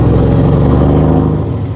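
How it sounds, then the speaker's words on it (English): A truck engine roars loud and close through an open sunroof, a heavy steady rumble with a rough, pulsing low drone throughout. "Isn't it crazy how much louder the engine is with the sunroof open?"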